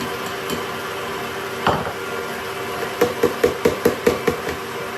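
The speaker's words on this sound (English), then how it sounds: "meanwhile, I'm going to sieve all the dry ingredients into here." A sieve is tapped against a bowl while dry brownie ingredients are sifted, giving a quick run of about seven close, light knocks after an earlier stray clink, over a faint steady background hum.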